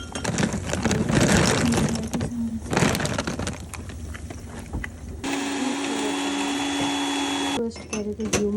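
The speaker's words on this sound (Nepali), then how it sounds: "घिउमा नै रोस्ट गरेको नट्सहरू चाहिँ अब मिक्सीमा हालेर पिन्छ" An electric mixer grinder whirs steadily for a few seconds as it grinds mixed nuts roasted in ghee, starting abruptly after a stretch of clattering and kitchen noise and then cutting off.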